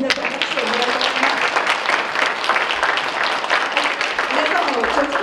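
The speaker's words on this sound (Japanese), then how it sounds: "皆さん拍手をお願いします" An audience at a public talk on phasing out nuclear power applauds, a dense continuous wash of clapping held at an even level throughout, with voices mixed faintly underneath.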